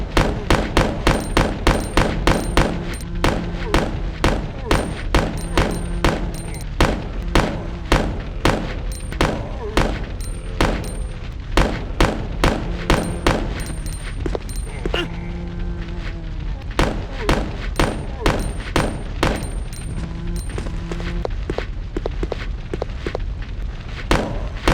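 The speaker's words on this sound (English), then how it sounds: "Might be a little complicated because they're machine guns and it's dual wielding" Dual-wielded machine guns fire in long rapid bursts at zombies in Resident Evil Code: Veronica X, the dense rattling volleys loud and close, broken by brief pauses, with game music and effects underneath.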